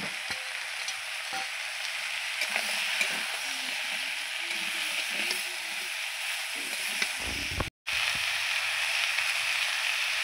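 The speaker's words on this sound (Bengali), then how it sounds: "এটাকে ভালো করে একটুখানি ভেজে নিয়ে এবার দেবো কেটে রাখা শাপলাগুলো" Chopped water lily stems frying in fish oil in a Bengali home kitchen, giving a steady loud sizzle and hiss throughout, with a brief cut near the end.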